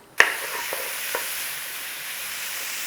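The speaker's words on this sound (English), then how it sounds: "Nice little stir on there." Onions frying in a pan as they get a stir: a sharp scrape of the spoon, then a steady soft sizzle with a couple of light taps, close and alone.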